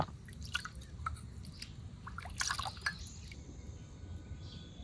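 Water drips and trickles softly around a clay tea cup soaking in water, with faint irregular splashes and small liquid sounds over a low background hum.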